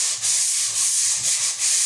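Hand sanding of drywall compound, a steady breathy scratching in repeated back-and-forth strokes with brief dips between passes, close and continuous with no talk.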